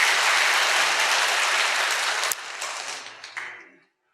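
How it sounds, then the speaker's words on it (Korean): A church congregation bursts into sustained applause, loud and dense for a little over two seconds, then thins to scattered claps and a last few before falling silent. "박수로 확실하게 치십시오."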